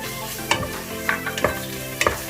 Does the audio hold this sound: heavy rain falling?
no